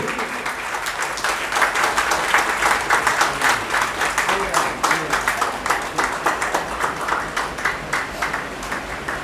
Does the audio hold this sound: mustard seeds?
no